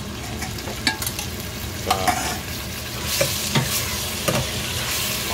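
Curry ingredients being stirred in a frying pan, a steady sizzle with scraping and clacking utensil strokes at irregular intervals, close by, with one brief spoken word.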